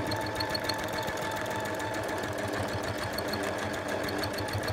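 A sewing machine quilting a zigzag pattern runs at a steady, rapid stitching rhythm, a constant mechanical whir and clatter heard close up with no talking.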